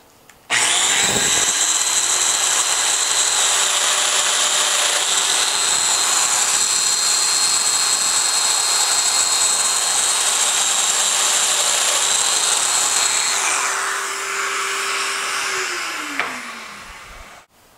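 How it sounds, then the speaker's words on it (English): A domino joiner plunges into the end grain of wooden base pieces for an outfeed table, cutting a mortise: one loud, steady motor whine and cutting roar for about fifteen seconds, then a spin-down as the tool winds off. "There are three sizes of mortises that you can cut with the domino."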